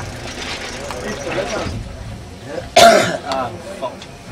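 A racing cyclist with a chest infection gives a single loud, harsh cough over steady road and engine noise from the race.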